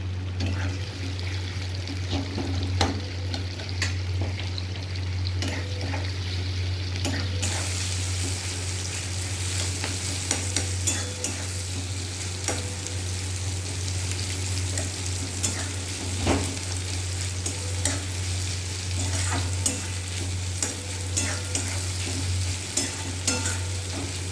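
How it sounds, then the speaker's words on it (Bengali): Onion and whole garlic cloves frying in a pan, a dense continuous sizzle that grows brighter after a few seconds, with frequent stirring clicks and scrapes over a steady low hum. "তো পেঁয়াজটা ভাজা হতে থাকো, লালচে লালচে ভাজা হয়ে গেলে"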